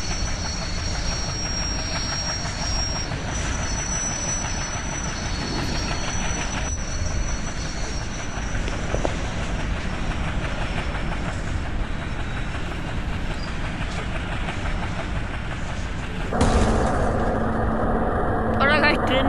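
An electric train rolls along in a train driving video game on Indian railways, a continuous loud rumble with rail clatter throughout and a brighter surge of wheel noise near the end.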